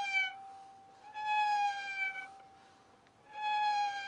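A violin imitates a small kitten meowing, with three plaintive, wavering, meow-like bowed phrases separated by short pauses. The tone is clear and moderately loud, with no voices.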